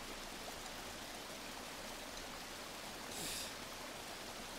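A river stream in the jungle survival video game Green Hell flows with a constant rushing, splashing wash of water, steady and fairly close, with no talk.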